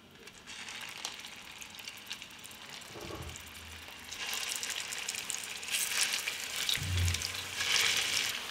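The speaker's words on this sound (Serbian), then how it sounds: "Ulje se zagrejalo i spuštam ćufte i pržimo ih." Meatballs (ćufte) lowered into about 50 ml of hot oil in a pan on a home stove, a soft crackling sizzle that swells louder and denser midway as more go in, with occasional soft clunks.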